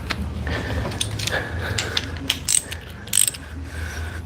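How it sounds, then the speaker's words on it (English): An air ratchet works a bolt loose on a 1996 Ford F150 during front brake work, giving close mechanical clattering with short sharper bursts and faint hiss in a garage. "Let me speed it up with air ratchet."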